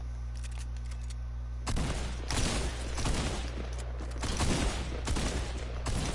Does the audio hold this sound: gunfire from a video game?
yes